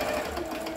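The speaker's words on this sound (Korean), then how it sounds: "직선 바느질이 되었습니다." A Singer 7466 household sewing machine runs a straight stitch, giving a steady, continuous close-up motor whir with fast needle chatter that stays even and unbroken for the short moment.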